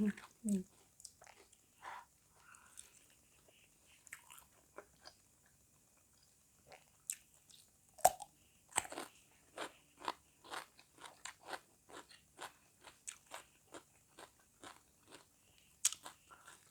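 Crisp bites and crunchy chewing of pork-filled khanom jeeb dumplings with fresh vegetables, close and quiet, in a steady run of separate crunches.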